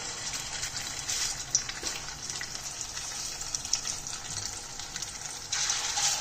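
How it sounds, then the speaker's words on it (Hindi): Potato and chicken kebabs frying in hot oil, giving a steady, moderately quiet sizzle and bubbling hiss that runs continuously and grows slightly louder near the end, with no speech. "मैंने ऑयल गरम कर लिया है, इसको गरम ऑयल में हमने डालना है।"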